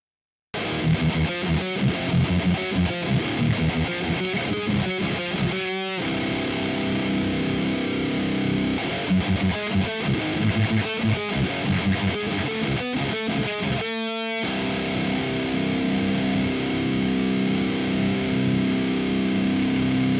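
An electric guitar played through a TDSFX Sekhmet overdrive pedal, with crunchy driven chords and picked notes ringing out steadily and loudly for the whole stretch, broken by two brief silent gaps and no talking.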